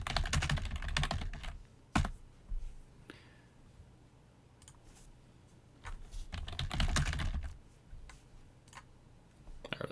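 Typing on a computer keyboard: bursts of quick, close clicking keystrokes separated by short quiet pauses.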